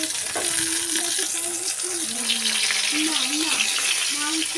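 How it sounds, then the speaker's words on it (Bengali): Sliced eggplant fries in hot oil in a pan, a steady bright sizzle running throughout, with a sustained low tonal hum beneath it and no speech. "একটা বেগুন আমি কেটে নিয়েছি এটাকে ভালো করে ভেজে নিচ্ছি"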